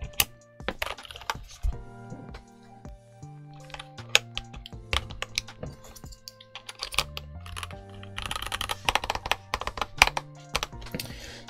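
Keys clatter on a Skyloong GK61 Pro prebuilt 60% mechanical keyboard with a steel plate, in irregular bursts of crisp clicks and taps, some deeper thocks, busier toward the end, with no voices.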